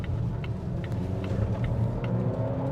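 A 2026 Volvo XC90 B5 accelerates at about half throttle in standard mode, its engine giving a steady low rumble with a gently rising hum, heard from inside the cabin.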